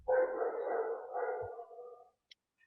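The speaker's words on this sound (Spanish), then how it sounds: "Ya hay alguien ladrando," A dog barking over an open microphone during an online meeting, a single drawn-out, muffled bark-like howl lasting about two seconds, faint and distant, followed by silence.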